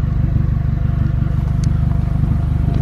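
A Honda car engine idles with a steady, loud, rhythmic low chug, close up and unchanging throughout.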